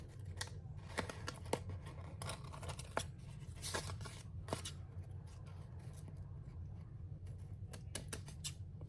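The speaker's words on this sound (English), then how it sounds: "first I just want to trim off some of the excess pieces" Scissors snip excess pieces off a grungy altered 4x6 paper journal card, a run of quiet crisp cuts in irregular clusters over a low steady background hum.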